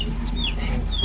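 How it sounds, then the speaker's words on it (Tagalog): Pet chickens clucking close by in a Filipino household, a few short rising squawks over a constant low background rumble, with no talk. "Naririnig na naman natin mga alaga niyang manok."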